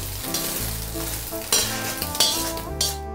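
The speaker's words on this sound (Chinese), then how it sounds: "接着炒成这个样子，我们给它倒出来。" Eggs, fried golden on both sides, are stir-fried in a wok over maximum heat. A loud, continuous sizzle is broken by several sharp spatula clanks and scrapes against the metal, with no talk.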